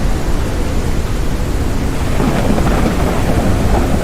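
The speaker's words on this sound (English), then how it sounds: "the sound of this rain in my ears is almost deafening" Heavy rain pours down in the video game Forever Skies, a dense, loud, unbroken roar with thunder rumbling low beneath it; no speech.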